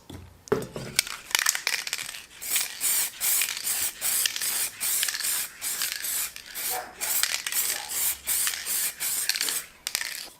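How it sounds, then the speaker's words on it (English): A spray can of clear plastic primer is applied to car dashboard parts in a light coat: a long run of short, loud hissing bursts in quick, even succession, with only a brief gap at the start. "we got our clear plastic primer and we're just going to give it a light coat"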